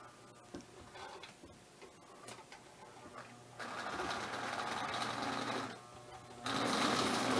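A Marx toy train locomotive runs on a model layout with Built Rite buildings, giving a quiet mechanical whirr with ticking and clicking that starts and stops, then grows louder in two bursts as it gets going.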